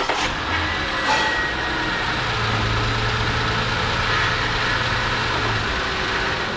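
Lincoln MKS engine cranking and catching, a brief starter whir and then a steady low rumbling idle, continuous and moderately loud throughout.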